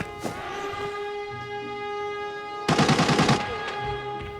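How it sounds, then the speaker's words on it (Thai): A rapid burst of automatic gunfire in the video game Arena Breakout rattles out over a steady electronic hum, with a few single shots scattered before and after. "มีเสียงปืนบอดอยู่เพียบเลยครับ"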